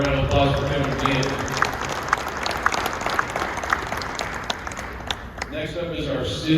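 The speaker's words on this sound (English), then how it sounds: "Another round of applause for Kevin Gant." Applause from a school basketball banquet crowd honoring a high school coach, steady dense clapping across the whole stretch with a speaking voice over it at the start and end.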